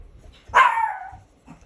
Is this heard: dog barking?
yes